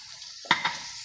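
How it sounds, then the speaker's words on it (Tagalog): Argentina corned beef frying in a pan at home, a short burst of sizzle with a stirring scrape, close and brief with no talking. "Nagluto tagoan Argentina corned beef."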